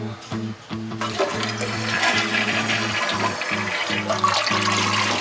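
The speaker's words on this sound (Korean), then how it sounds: "마지막으로 변기 물을 내려 수리가 잘 끝났는지 최종 확인을 합니다." Toilet flushing after a repair in a small bathroom, a loud continuous rush and gurgle of draining water with a steady refill hum beneath, close by.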